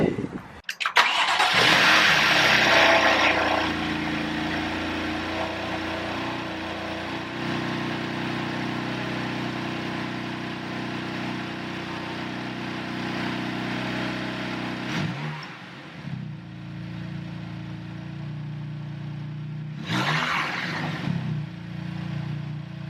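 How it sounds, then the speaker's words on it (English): BMW M4 with a VRSF cold air intake and blow off valve cranks and fires with a loud burst, settles into a steady idle, then gives a couple of brief revs near the end, close by with no talking. "Other than that, we can start the car up."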